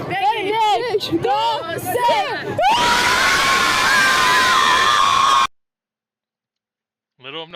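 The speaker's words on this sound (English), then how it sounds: "Iranians are cheering and clapping as Americans' bombs falls on the regime" An Iranian crowd cheers and claps in a loud, dense roar of whoops and clapping, with shouting voices at first, then cutting to silence.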